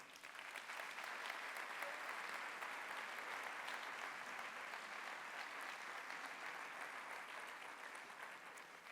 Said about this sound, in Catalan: Fotografia, fort aplaudiment.